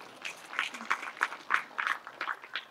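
Scattered hand clapping from a crowd at a large religious satsang gathering in Pimpalgaon Khamb, coming in irregular bursts at a moderate distance without any voices.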